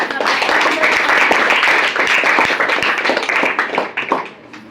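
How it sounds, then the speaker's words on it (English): An audience at a panel discussion breaks into a loud round of applause, dense clapping close by that swells, holds, then thins out into scattered claps at the end. "So give them a huge round of applause."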